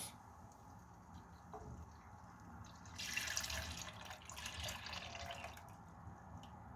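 Five glasses of milk poured into boiled rice in a pot while making Turkish baked rice pudding, a soft, faint stream of liquid that swells for a few seconds in the middle of the clip.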